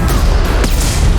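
Loud, dense gunfire from a Mass Effect 2 firefight, a continuous booming barrage with sharp cracks throughout.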